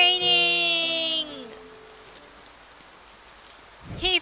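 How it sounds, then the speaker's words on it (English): Rain patters softly and steadily in the game A Bird Story under a fading musical tone, with a brief voice near the end. "And it's raining!"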